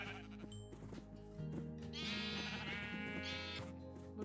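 Several Minecraft 1.21 sheep bleat repeatedly during breeding on a sheep shearing farm, with overlapping calls of moderate loudness over soft background game music.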